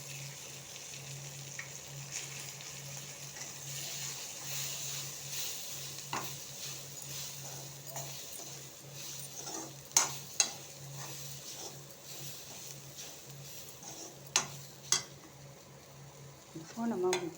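Bajji chili poriyal with coconut is stir-fried in a pan, giving a quiet steady sizzle with occasional sharp clinks of a spoon against the pan, sparse at first and clustering toward the end.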